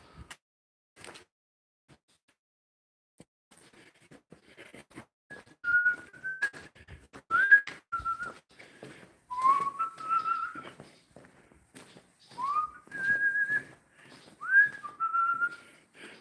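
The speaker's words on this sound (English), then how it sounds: "I'm gonna whistle a song and get a copyright." A person whistles a melodic tune in clear, close phrases with short pauses between them, alone in a quiet space.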